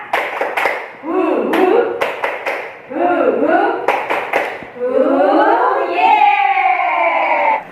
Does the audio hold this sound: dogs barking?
no